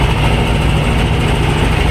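A T-25 or YuMZ-6 tractor engine runs in a field, close and loud, with a steady rumbling drone and no break.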